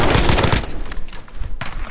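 Gunfire in a Teenage Mutant Ninja Turtles battle royale trios match, a dense burst of loud close shots over the first half, then scattered sharper reports and a final crack.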